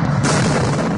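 A sharp firecracker bang during clashes between masked protesters and Israeli security forces at a Jerusalem mosque, one loud burst followed by a rough, noisy crackle echoing in a crowded outdoor setting.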